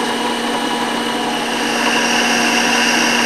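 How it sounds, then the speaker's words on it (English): A drill press runs with a steady machine hum throughout, smooth and even with a constant low whine, without any clicking. "On this drill press, we're going to use the contact probe to check for bad bearings"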